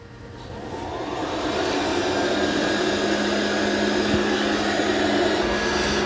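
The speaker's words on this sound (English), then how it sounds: "Now it's going to go vacuum and doesn't have to worry about raising or lowering those mop pads." A Dreame X30 Ultra robot vacuum spins up and vacuums nearby, its steady whirring drone rising over the first seconds and then holding level and loud, heading toward a carpet with dog hair, with no talking.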